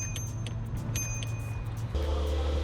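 Car engine revs up steadily under acceleration after rolling over a curb, a continuous low drone that suddenly thickens and grows louder near the end, with no voices.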